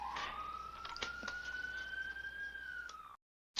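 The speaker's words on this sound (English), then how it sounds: "Sorry about the siren noise" Police siren wailing outside, a single long rising and slowly falling tone heard faintly at a distance over low room noise, cutting off abruptly near the end.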